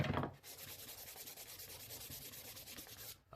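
Wooden birdhouse edges sanded by hand, giving a close, steady run of rasping abrasive strokes for about three seconds with no talking.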